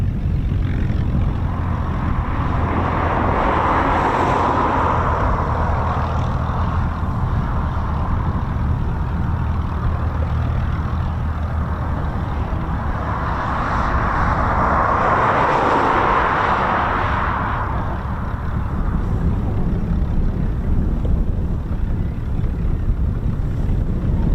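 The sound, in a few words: Griffon-engined five-bladed Spitfire PM631 aircraft flying past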